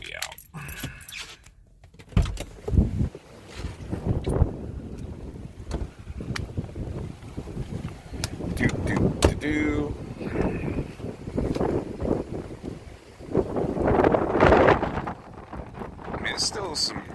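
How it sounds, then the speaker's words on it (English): Gusty wind buffets the microphone on Folly Beach in Charleston, South Carolina, after Hurricane Dorian, with gusts of about 20 to 25 miles per hour rising and falling in loud broadband bursts while a person talks over it. "it's still some 20-mile-an-hour wind gusts, I'd say"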